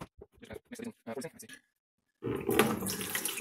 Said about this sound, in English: So this is the first pour with the hot water.